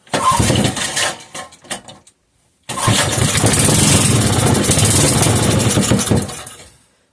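A 5hp Briggs and Stratton engine with gear reduction, its governor misbehaving, sputters through a couple of start attempts, goes silent, then catches and revs loudly and roughly for several seconds before dying away.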